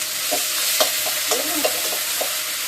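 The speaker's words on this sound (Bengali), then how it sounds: "তো এটাই এখন তেলে ছেড়ে দিচ্ছি। তেলে ছেড়ে দিয়ে একটু নেড়ে ছেড়ে নেব" Chicken coated in ginger-garlic paste fries in hot oil with a steady, close sizzle, while a spatula scrapes and stirs it in several short strokes.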